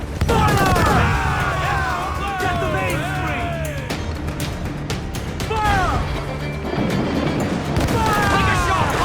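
Ship cannons fire in a naval battle in Assassin's Creed 4 Black Flag, loud repeated booming blasts and crashing impacts under constant shouting crew voices and a rising musical score.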